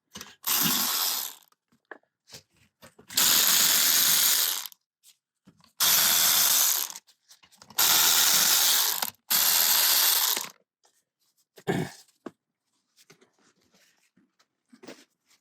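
A ratchet wrench takes 14 mm nuts off a vintage Honda CL77 engine, clicking in four loud, close bursts of rapid ratcheting, each a second or two long, separated by pauses and a few small metallic knocks.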